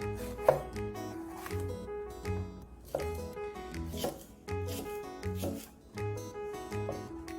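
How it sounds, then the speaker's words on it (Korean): Rhythmic knife chopping of bell pepper into triangles on a cutting board, steady repeated cuts at close range, with no talking. "피망은 삼각형 모양으로 썰어주시고요"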